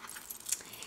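A small metal key jangles briefly against other metal bits, a quick close bright rattle lasting under a second, with no voices.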